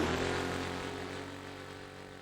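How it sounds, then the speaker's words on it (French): Propeller engine of an aerobatic radio-controlled plane in the Easyfly 4 flight simulator game, a steady buzzing drone that slowly fades as it passes away. "Bon là c'est un avion de voltige"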